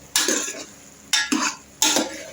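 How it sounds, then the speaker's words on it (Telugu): Chicken cooking in a pan: three distinct scraping stirs of a utensil against the metal, evenly spaced, over a low steady sizzle with no talking. "చికెన్ అయితే ఉడుకుతుంది కదండి"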